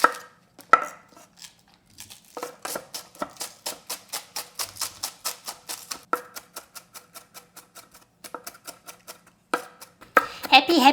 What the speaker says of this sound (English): We need 4 garlic cloves and 2 green onions. Let's crush these guys. And green onions.